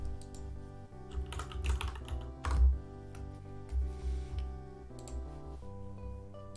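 Typing on a computer keyboard plugged in to work through a math exam problem, with a steady run of close, soft key clicks and occasional heavier strokes and no talking.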